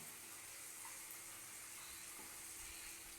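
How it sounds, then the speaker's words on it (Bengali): Flattened rice (chira) frying in a spice masala with chilli powder in a pan, heard as a steady, soft sizzle that holds evenly throughout with no talking. "এই মশলার মধ্যে আমি চিড়েটা একটু ভেজে নিচ্ছি"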